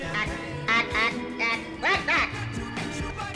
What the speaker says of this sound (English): the sharp quack-like alien scream they make when they speak their dialect